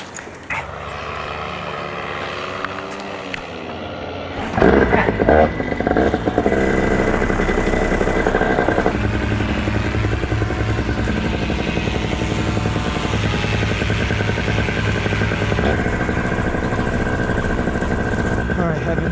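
A paramotor engine runs loud and steady during a launch attempt, its tone rising sharply as the throttle opens and then holding a sustained, buzzing drone, with voices partly audible over it.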